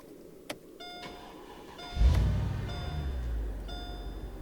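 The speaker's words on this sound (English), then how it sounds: "These cars sound awesome when you turn them on." A 2005 Mercedes AMG SL55 supercharged engine is started: a few chimes and a click, then the starter catches and the engine bursts into a deep, bassy idle, loud and close, with no talking.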